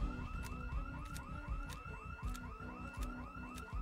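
Car alarm blaring in a video game set in Louisville, a steady looping electronic wail with rapid repeating pulses and periodic chirps, loud and continuous throughout with no voices over it.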